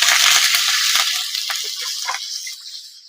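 Mustard seeds, curry leaves and chilies hit hot oil for a potato bhaji, a loud, close hiss and crackle that bursts at once and slowly fades, with a few pops.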